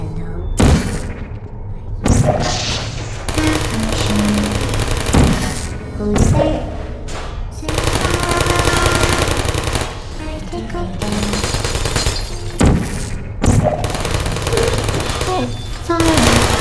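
Loud automatic gunfire crackles on a live fire course in the video game Portal, with repeated bursts broken by short gaps and heavy thuds over about seventeen seconds.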